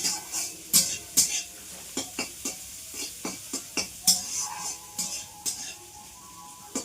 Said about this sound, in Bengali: ভাত হয়ে গেছে আর তরকারি হচ্ছে এখানে।